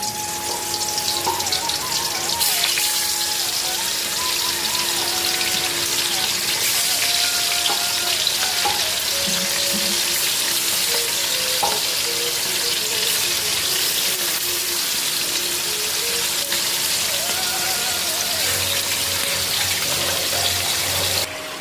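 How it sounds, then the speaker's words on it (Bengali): Chicken leg pieces coated in turmeric and salt fry in oil in a wok, giving a loud, constant crackling sizzle that fills the whole stretch with small spatters and bubbling and no talking. "মাংসটার মধ্যে দেখো আমি আগে হলুদ লবণ মাখা এটাকে ভালো করে ফ্রাই করে নেব"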